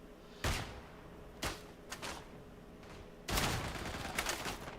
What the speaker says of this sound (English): Ah, the rifle grenades.